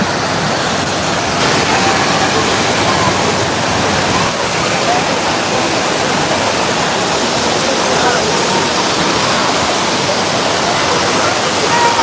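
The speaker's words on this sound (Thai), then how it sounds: "น้ำตก น้ำตก" Waterfall at a Thai resort, a continuous dense broadband roar of falling water, steady and loud throughout with no pauses.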